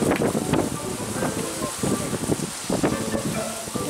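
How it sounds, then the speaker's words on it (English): Strong gusty wind buffets and roars across the microphone throughout, with continuous rushing noise and faint voices underneath. "It is really windy today."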